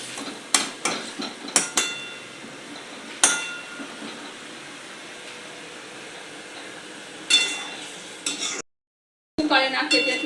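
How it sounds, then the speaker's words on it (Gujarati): Manchurian balls are stirred into a spiced mixture in a pan, with bursts of metal spoon clinks and scrapes over a faint, quiet sizzle, then a short silent gap. "તો હવે આ ગોટીઓ આપણે બનાવીને રાખી છે આપણે અંદર મિક્સ કરી દઈએ"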